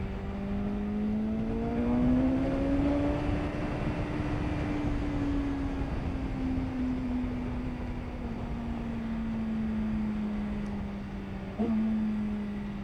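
A 2026 BMW S1000RR motorcycle in dynamic riding mode accelerates hard through the gears, its engine note climbing and then holding a loud, steady roar with a brief shift near the end, heard alone without talk.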